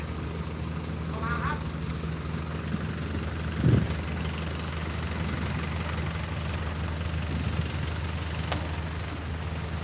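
A large car ferry to Ko Chang that carries more than 200 people and vehicles runs its engines in a steady low drone and rumble throughout, with someone talking over it as the boat nears the pier.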